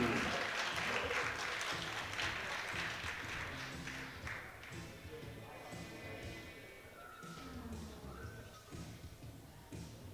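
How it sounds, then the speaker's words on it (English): Crowd applause at a European equipped powerlifting championship as a junior lifter takes a 180 kg attempt, a distant, rolling patter of clapping mixed with thuds and hall noise, fading as the attempt goes on. "A big round of applause and your support for this one."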